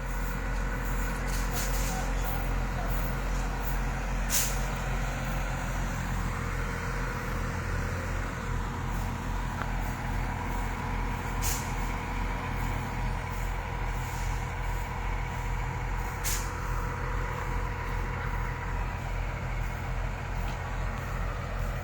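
Trucks idle and rumble steadily at a ferry port loading area, with a constant low engine drone and several sharp hissing air-brake releases scattered throughout.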